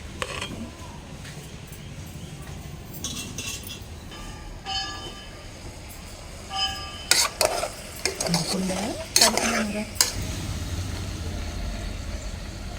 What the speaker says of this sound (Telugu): మామిడికాయ ముక్కలు వేసేసుకుందాం